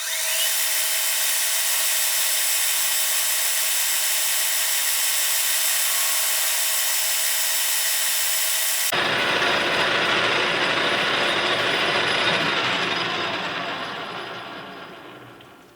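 Metal lathe facing the end of a new part for a Darex drill grinder, a loud steady machining whir and hiss that shifts to a rougher, broader cutting noise partway through before fading out.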